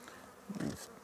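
Honey bees buzz faintly during a varroa mite sugar shake test, with a soft steady hum that swells briefly in the middle, close by and without speech.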